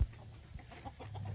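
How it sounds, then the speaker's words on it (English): Chickens clucking softly inside a coop while they are tended, a steady low murmur of fowl calls with a faint rooster-like note, close by and without talk. "we are working in the chicken coop, taking care of the chickens"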